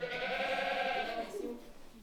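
On a farm, a goat lets out a long, wavering bleat close by that trails off, with the barn ambience lingering afterward.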